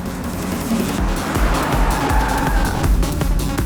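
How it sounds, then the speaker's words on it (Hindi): Car interior and engine rumble in a dubbed South Indian thriller, a steady low road roar with broadband noise running continuously while the vehicle drives along a wrong route. "ये ड्राइवर गलत रास्ते पर गाड़ी ले जा रहा है"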